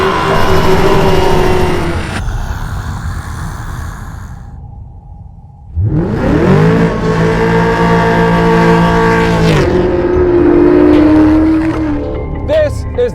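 A 2018 Chevrolet Camaro ZL1 roars loudly up close, with its engine note dropping away and then surging back into a strong sustained rev and a high whine.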